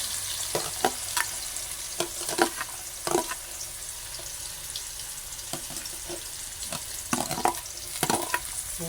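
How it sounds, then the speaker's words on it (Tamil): Carrots fry in a pan with a steady soft sizzle, broken by scattered clinks and scrapes of stirring, no voices. "அடுத்துதான் நாங்கள் இனிமே கேரட்டை போட்டு பொரிப்போம் நல்ல வடிவா"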